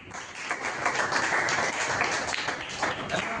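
A church congregation at a Sunday worship service applauds together, a dense, steady burst of clapping from many hands that fills the room for a few seconds.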